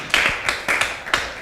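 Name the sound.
audience applause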